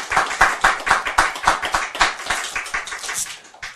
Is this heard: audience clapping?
yes